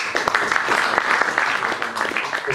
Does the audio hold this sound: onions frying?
no